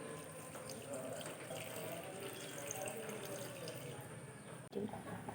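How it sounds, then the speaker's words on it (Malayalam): Water poured from a tap into a pot of beef kurma masala, a steady close rushing splash that runs unbroken for several seconds, ending in a short clunk. "അതിലേക്ക് വെള്ളം ഒഴിച്ചൊന്ന് നല്ല വേവിച്ചെടുക്കാം"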